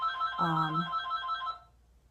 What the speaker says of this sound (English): Sorry, the phone's ringing.